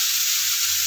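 Discarded vegetable peels with green chilli sizzle in a hot pan as they are stirred, a steady, close, bright frying hiss with no pauses.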